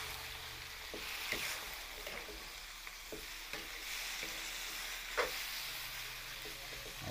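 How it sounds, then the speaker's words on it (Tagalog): Beef being stirred in a pan with soy sauce and calamansi for bistek tagalog, a steady close sizzle and frying hiss with scraping stir strokes and a few sharper utensil knocks against the pan. "Haluin lang po natin."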